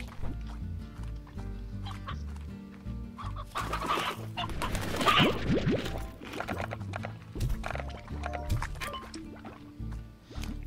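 Chickens cluck and squawk in the Slime Rancher video game, a busy flurry of close clucks peaking midway over a soft low background, then thinning out.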